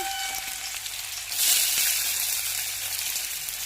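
Chopped onion hits hot oil in a heated wok (kadai) while chow mein is being made, and a steady hiss of frying swells into a louder, brighter sizzle partway through. The sizzle continues alone and close up, with no voices.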